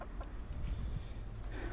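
A chicken clucks softly a few times inside a goat shed with a hay bed, the calls low and muffled against a steady background rumble.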